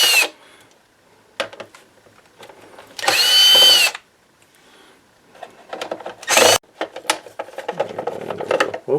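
Power drill backing screws out of a dashboard panel in a 2005 Toyota Highlander: two short, loud whirring bursts separated by pauses filled with small clicks and handling noises.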